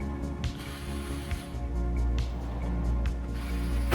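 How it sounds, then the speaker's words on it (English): Four screws are backed out of a dusty computer power supply in an empty case: close, rasping ratchet-like clicks and scrapes over a steady low hum. "the first thing that I do is take out all 4 screws holding the power supply in place"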